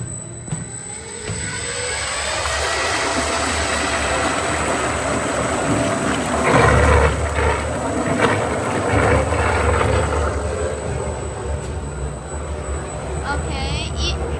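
A VME-400L vacuum emulsifying mixer homogenizing at 1500 RPM gives a steady, loud mechanical whir and hum that holds throughout, thickening in the middle, with a constant high whine and a person talking over it.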